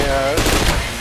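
Kalashnikov firing in the Payday The Heist shooter game, a loud, dense one-second burst of rapid automatic shots with a voice briefly overlapping.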